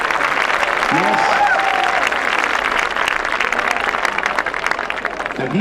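At the Braemar Gathering, a large outdoor crowd claps and cheers steadily for a caber toss, a dense, continuous wash of applause with a few whistles and shouts rising above it.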